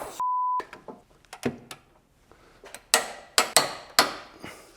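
A torque wrench is worked on a differential bolt during restoration of a V12 BMW E31 850, tightening to 85 Nm. After a short electronic beep come a series of sharp, close clicks and metallic knocks, the last few loudest.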